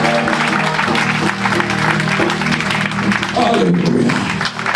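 A church congregation claps along during lively worship, steady dense applause mixed with singing and voices throughout, loud and close.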